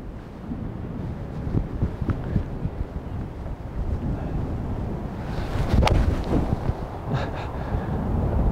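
Gusts of wind buffet the microphone on an English golf course, a constant low roaring rumble that swells slightly in the middle, with no talk.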